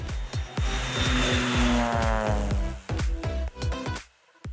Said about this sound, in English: flying his air tractor 602 smoothly over the vast wheat fields of South Africa.